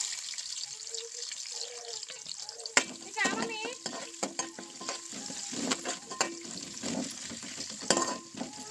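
Onions fry in oil for a fish curry, quiet at first, then a sudden burst of crackling sizzle with irregular stirring scrapes and spatters continuing steadily.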